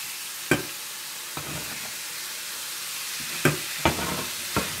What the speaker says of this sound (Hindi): और इन्हें भी आप थोड़ा सा भून लें।